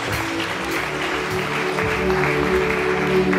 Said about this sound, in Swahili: Piga makofi Bwana Yesu.